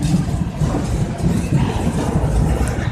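A graffiti-covered freight train rumbles past close by, a loud, continuous low roar and rattle of rolling cars with no talking.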